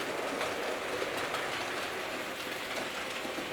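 Several Hornby Terrier model railway locomotives run together along the track, giving a steady, continuous rolling hiss and faint rhythmic clatter that stays level throughout with no voices.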